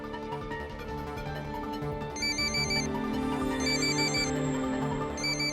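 A phone ringtone plays a repeating electronic melody in short bursts over quiet background music, ringing twice with a pause between.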